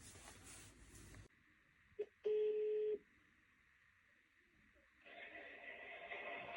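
Telephone dialing for a call about a parcel, with a short electronic tone burst and a steady sustained beep between stretches of background noise.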